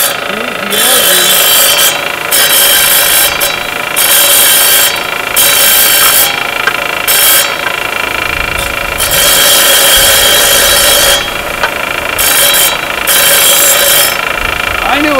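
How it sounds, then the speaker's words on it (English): A glass blade cuts glass with a loud, harsh, continuous scraping and rasping, broken by brief pauses into repeated strokes that run throughout, with no talking. "That cuts glass, brother. That cuts glass."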